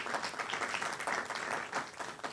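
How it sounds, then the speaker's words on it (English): An audience at a report launch on artivism in Nairobi claps for a speaker. Fairly quiet, brisk applause with individual claps standing out, heard from a distance and steady throughout. "Ladies and gentlemen, a round of applause,"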